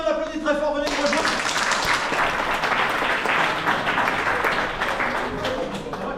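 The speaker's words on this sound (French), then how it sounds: "Claudia, on l'applaudit très fort, venez nous rejoindre." Loud, sustained applause from a game show audience fills the room after a brief moment of speech, the clapping steady and dense throughout.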